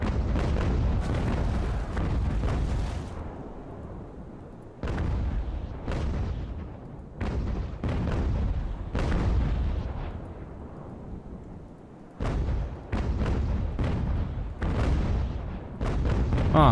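Naval cannon broadsides in the age-of-sail game Ultimate Admiral: Age of Sail, with repeated booming bursts of gunfire in clusters, some rumbling and fading between volleys.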